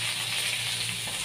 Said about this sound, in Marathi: मेथीची भाजी फोडणीला घातली की 2 ते 3 मिनटं छान अशी ही मेथीची भाजी परतून घ्यायची आहे